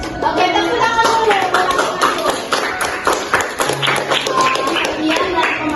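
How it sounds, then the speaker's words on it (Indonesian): An audience claps for presenters at the close of a youth talk on technology use, a busy patter of many hands with voices chattering over it throughout. "Oke, tepuk tangan dulu."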